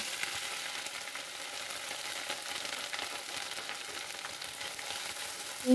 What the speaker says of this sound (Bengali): দিয়ে আর একটু ভেজে নেব আমরা আদাটাকে